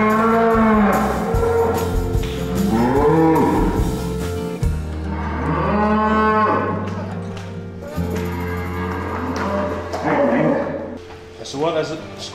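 Cows on a farm held at a cattle crush for hoof work give several long, loud moos in succession, close by, while people talk over them.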